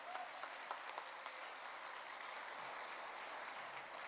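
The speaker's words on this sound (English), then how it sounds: "You can give a round of applause" Steady applause from the audience honoring students at a city education awards evening, faint and distant, sustained evenly throughout.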